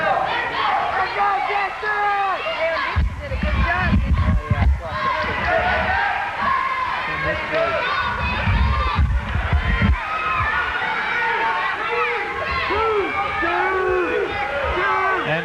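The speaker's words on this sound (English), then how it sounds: "And the Cox crowd yelling for 2." Cox high school crowd yelling and cheering at a wrestling dual, a noisy gym full of overlapping shouts with louder surges of rumbling noise, under an announcer talking.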